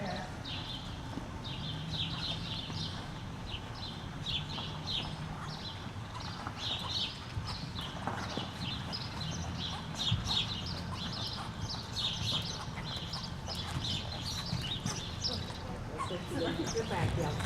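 A horse canters during a riding session with a steady, soft rhythmic clip-clop of hooves throughout, birds chirping faintly around it and people talking now and then.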